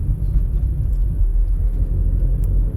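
Low, steady rumble inside a moving car, a continuous deep road and engine drone filling the cabin with no speech.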